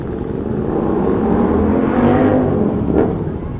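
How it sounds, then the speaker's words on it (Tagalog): A motorcycle engine revs hard nearby at a fuel station in San Jose, Batangas, a loud sustained roar that swells and peaks near the end before easing slightly. "Lakas makahiyaw ng kanyang motor ah"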